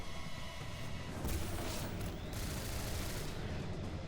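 Heavy auto cannon gunfire in the video game Singularity, a dense, loud barrage of booming shots blending into a continuous roar that swells slightly partway through.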